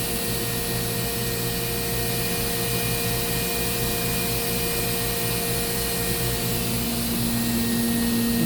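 A 2013 Mazak HCN 4000-III horizontal machining center spindle spins at 14,000 RPM under about 1% load, producing a steady, loud whine with constant tonal hums and a broadband rush that never varies.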